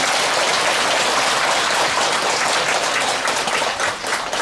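Warm audience applause at a Buddha's Birthday ceremony at Gilsangsa temple, a dense, even patter of many hands clapping at a distance, sustained and fairly loud with no talk over it.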